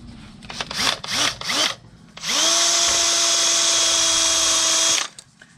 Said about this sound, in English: Well, I'll try a regular drill here.